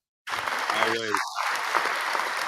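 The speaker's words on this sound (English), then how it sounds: "give him a clap, then, Trey." A burst of applause starts suddenly and continues steadily, dense clapping from a crowd, while a voice briefly calls out over it.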